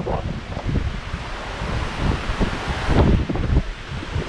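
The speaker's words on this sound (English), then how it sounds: "I think we've picked the windiest day possible" Strong wind sweeps across an open hillside in the Cheviot Hills, a loud, steady roaring buffet with gusts swelling and falling and rumbling against the microphone, continuous throughout and with no talking.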